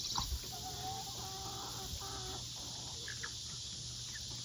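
Several free-ranging farm chickens cluck softly in short, scattered bursts over a steady outdoor background hum, with one sharper call near the start.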